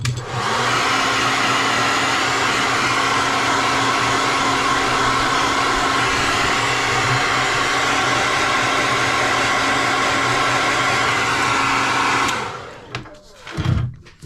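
A heat gun blows steadily to heat-set fresh paint on a handmade pike crankbait, a loud continuous whooshing hum lasting about twelve seconds before cutting off into a few faint clicks and handling noises.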